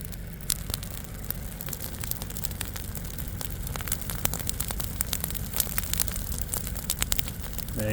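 A brush pile burns beside a pond in the Missouri Ozarks, giving a low steady roar under scattered sharp crackles and pops for several seconds, with no one talking.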